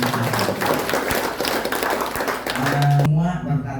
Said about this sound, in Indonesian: Tepuk tangan dulu dong ini.